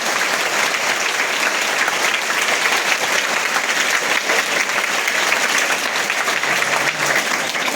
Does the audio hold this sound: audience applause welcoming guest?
yes